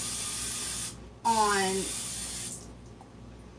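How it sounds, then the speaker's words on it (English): A Misto oil mister sprays cooking spray into a Pyrex dish in a home kitchen: two steady hissing bursts, the first about a second long, the second longer, with a brief squeak between them. "So now I'm going to spray my Pyrex, my Mr. Misto."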